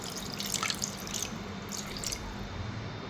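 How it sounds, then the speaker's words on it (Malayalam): Water is poured into a pan of beef curry with curry leaves, a faint, close trickle and splash with small irregular drips and bursts. "ഇനി കുറച്ച് വെള്ളം ഒഴിച്ച് കൊടുക്കാം"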